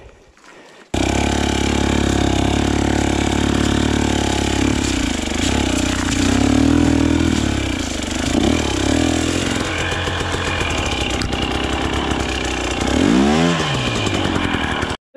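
KTM TBI motorcycle engine running while low on fuel, buzzing loudly and close by with steady revving, a few surges in pitch, and a sharp rise and fall near the end before it stops.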